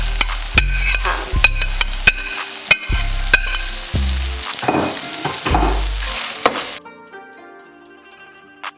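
Vegetables and egg for prawn fried rice frying and being stirred in a hot pan, loud sizzling with repeated sharp scrapes and knocks of the utensil against the pan, then the sizzle fades toward the end.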